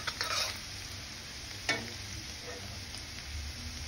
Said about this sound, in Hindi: तेल में लहसुन, ये हल्का ब्राउन हो जाएगा।